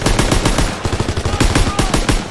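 Dense, rapid bursts of gunfire from the World War II shooter game Call of Duty: WWII, with overlapping automatic fire and single shots cracking loudly and continuously throughout.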